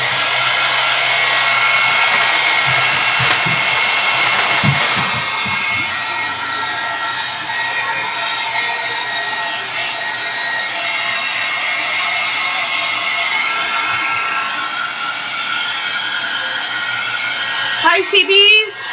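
A dryer blows steadily over a freshly worked art journal page of collage, image transfer and oil pastels, giving a loud, close, continuous whoosh that runs nearly twenty seconds before cutting off abruptly.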